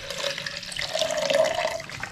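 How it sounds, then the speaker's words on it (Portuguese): Water pours steadily into a plastic whey protein shaker bottle, a continuous splashing, gurgling stream with a rising tone as the bottle fills, close and alone with no voices. "Só colocar água, mostrar pra vocês aqui, ó, em tempo real, a mistura"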